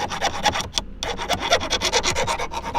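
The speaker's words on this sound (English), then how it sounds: "Like I said, I'm just filing the edges." Hand file rasping back and forth over the edges of a NueSpeed short shifter part for a Fiat Abarth 500, a steady run of close, loud strokes with one short pause, no talking.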